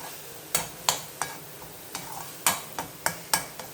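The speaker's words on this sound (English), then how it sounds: "let this onion paste fry a little" Onion paste frying in a pan with turmeric: close, sharp scraping and tapping of a utensil stirring against the pan, about a dozen irregular strokes over a low sizzling hiss.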